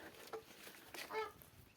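A rooster and chickens cluck softly a few times nearby, brief scattered calls against a quiet outdoor background.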